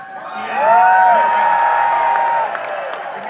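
A large crowd at a Trump rally cheers and whoops, rising into a loud sustained roar with a high whistle-like shout running over the top before easing slightly.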